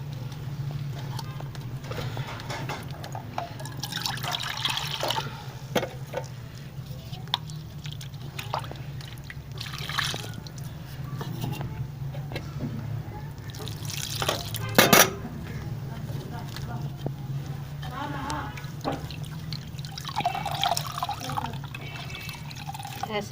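Chunks of meat are rinsed in water, with intermittent splashing, dripping and handling clatter against a bowl under a steady low hum, fairly close, with occasional louder knocks.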